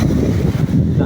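Strong coastal wind ahead of an approaching storm roars loudly and steadily into the microphone as a low rumbling buffet, with surf and open water underneath and no voices.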